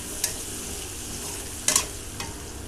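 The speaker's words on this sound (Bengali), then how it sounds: "এখন আমি আলুটা দিয়ে দিব। আলুটা দিয়ে একটুখানি নাড়াচাড়া করবো।" Potatoes and spices being stirred in a pan of frying onions, a low steady sizzle with a few sharp scrapes and clacks of the spoon against the pan, close by and with no talking.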